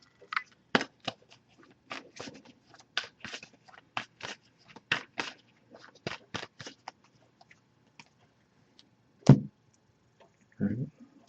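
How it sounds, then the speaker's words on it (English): An oracle card deck shuffled by hand, a run of crisp, quick riffling snaps and taps in irregular bursts, close and fairly quiet, with a louder thump and a rustle near the end. "I'm just going to give this a few shuffles"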